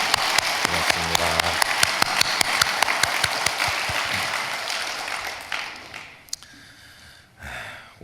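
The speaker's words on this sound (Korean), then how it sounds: "우리 하나님께 영광의 박수를 올려드리겠습니다." A church congregation breaks into applause during a service; steady clapping rings through the hall for about five seconds, then fades to a few scattered claps and quiet room noise.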